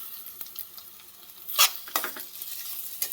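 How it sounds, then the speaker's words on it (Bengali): Chopped shrimp and onion sizzle in a pan, with quiet crackling broken by louder scraping bursts of a spatula stirring them. "পেঁয়াজটা ভাজা হয়ে এসেছে, এবার চিংড়ি মাছ কুচোনোটা দিয়ে দিব"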